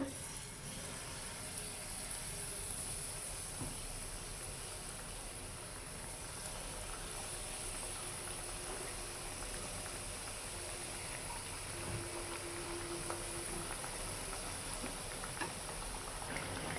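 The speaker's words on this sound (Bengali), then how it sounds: "উল্টিয়ে পাল্টিয়ে ভেজে নিলাম লাল লাল করে এমন" Palm fruit pitha fry in hot oil with a constant, even hiss that holds steady and unbroken throughout, faint in level, with no voices.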